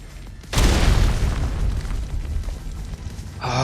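A sudden heavy boom from a grenade in the video game Ark Survival Evolved, bursting loudly and rolling into a long, dense rumbling decay that fills the rest of the moment.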